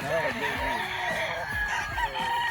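Gamefowl stag roosters at a gamefarm crow in overlapping calls, several cock-a-doodle-doos rising and falling close by, with light clucking and rustle underneath.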